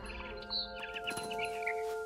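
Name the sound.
bird chirping, from a video game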